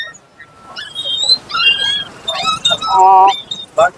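Puppies at an outdoor dog market in Kunnathur whimper and yip in high, thin whines close by, with people talking amid the sounds and an occasional glassy clink.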